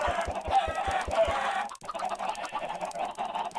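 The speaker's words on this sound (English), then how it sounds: "We continue to throw these eggs at these chickens." Clucking from Minecraft chickens, a video game farm scene, comes in a brisk run with short thumping taps at first, then a sharp break and more clucks afterward, all without speech.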